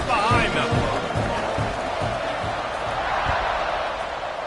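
A football stadium crowd at an SMU vs UCF game just before kickoff, making a broad, steady roar with no break, with a commentator talking over it.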